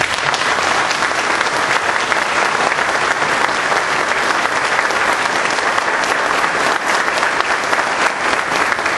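A congregation at a church Mass marking a birthday claps in loud, continuous applause that fills the space evenly from start to finish, with no speech over it.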